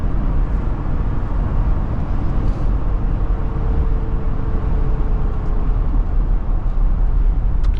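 Inside a 2026 Jeep Wrangler Rubicon X two-door while driving, a loud steady low rumble of road and tire noise fills the cabin, constant and droning with no voices.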